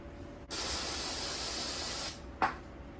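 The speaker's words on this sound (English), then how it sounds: "Get some brake cleaner and just kind of clean off the surface on it." Brake cleaner sprays onto the surface of a Toyota MR2 SW20 radiator in a close, loud hissing burst of about one and a half seconds, followed by a short second squirt.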